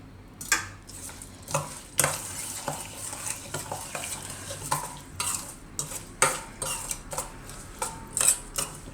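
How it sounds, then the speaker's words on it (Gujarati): Amla pickle being stirred and mixed with cooled oil in a pot, a series of close metallic scrapes and clinks of a spoon with faint sizzle-like rustle between strokes, no talking. "તો આમાં આપણે હવે આ આંબળા મિક્સ કરી લેવું"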